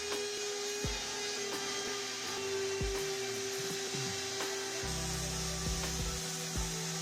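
A CNC machine grinds steadily into a wood slab with a sustained whine, punctuated by periodic knocks and shifts in pitch as the cutter moves.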